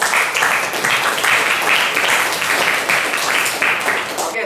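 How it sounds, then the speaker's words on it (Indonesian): A classroom of students applauding together, a dense, loud, steady burst of many hands clapping that fills the whole stretch without talk over it. "terima kasih, tepuk tangan buat kalian semua"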